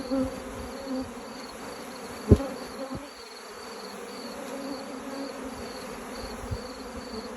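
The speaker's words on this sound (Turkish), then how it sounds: "Tarlacı arılar uçuracağız bak. Bak bak uçuyor öyle bak." A continuous buzzing of many forager honeybees in flight hums steadily nearby, with a brief tap partway through and a faint high whine in the background.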